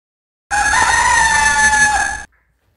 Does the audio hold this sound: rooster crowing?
yes